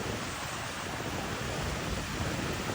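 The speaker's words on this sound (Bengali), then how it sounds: "ও মাই গড কত বড় ঢেউ" Big sea waves at Cox's Bazar beach make a constant roaring wash of surf, close and full, with wind buffeting the microphone and no clear breaks.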